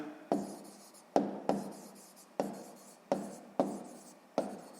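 A pen writes out a maths note in a sixth-grade lesson, about seven distinct strokes with sharp onsets that each scratch and fade, spaced roughly evenly and heard alone.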